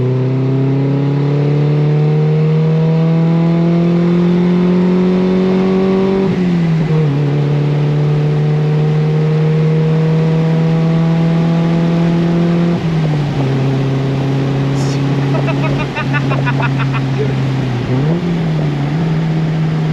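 Toyota MR-S with a Lotus exhaust revving loudly to about 3,000 RPM, a steady droning engine tone that rises and holds, dips briefly, then repeats in several close, sustained pulls with no talking.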